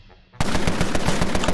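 Pistol fire in the Empire of Sin game: after a quiet moment, a loud rapid volley of sharp shots bursts in and continues steadily to the end, close and dense.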